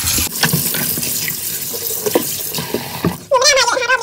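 Star gooseberries are washed under a running kitchen tap. The water makes a steady splashing hiss, and a louder, gurgling burst of flow comes near the end.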